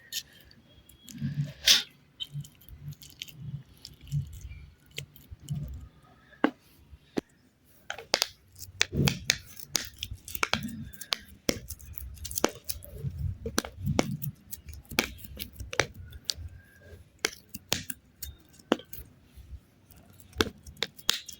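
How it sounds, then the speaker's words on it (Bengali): Soft squishy presses and scrapes from a spoon mashing a peeled boiled potato in a bowl, irregular muffled squelches with sharper clicks of the spoon against the dish, close and fairly quiet. "এখন চামচের সাহায্যে আমি এটাকে ম্যাশ করে নেব খুব সুন্দর"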